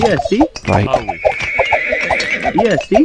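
Horses whinnying and neighing amid battle noise in the strategy game 0 A.D., several short neighs near the start and end, with speech present throughout.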